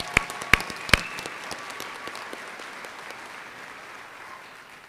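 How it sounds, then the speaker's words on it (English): Graduation audience applauding, a few loud close claps at the start followed by a sustained round of clapping that gradually fades away. "So let's give them a round of applause."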